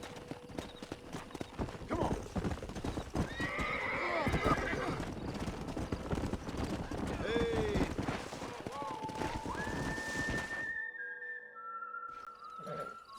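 Horses in the Red Dead Redemption video game whinny and clip-clop close by, hooves trotting steadily as several neighs rise above, with voices speaking over parts and a quieter tail at the end.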